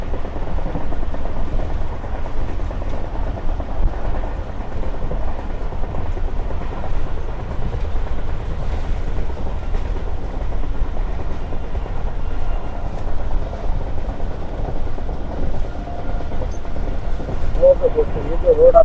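The Hazara Express passenger train rumbles steadily along the rails between Khanewal and Rohri, a continuous low, heavy rolling roar with faint rattles heard from inside the moving train.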